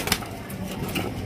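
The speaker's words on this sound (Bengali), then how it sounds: "রয়েছে আরো এক জোড়া রেড চেকার রেসার কবুতর" Red checker racer pigeons coo softly in a brief, steady burst at close range, the low murmuring calls running continuously with no voices over them.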